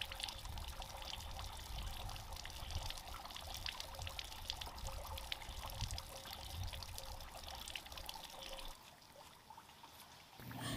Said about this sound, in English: I want to just let a little bit of the water out